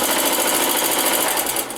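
A sewing machine stitches fabric for a quilted machine cover, a dense steady mechanical whir with a rapid needle rhythm. It runs loud and close without pause and eases off at the very end.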